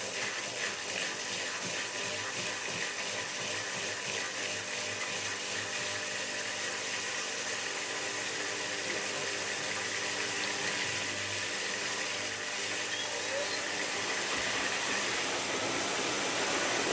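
Miele W3744 washing machine on a Minimum Iron 40 wash, a steady rushing of water and drum churn that holds constant throughout, close and alone with no talk.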